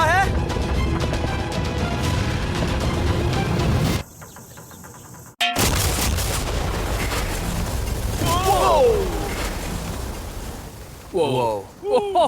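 A huge sea-bomb explosion set off by a remote-controlled boat against a yacht: a loud, broad roar fills the opening seconds, breaks off into a brief near-silence, then returns as a prolonged rumbling wash beneath excited voices.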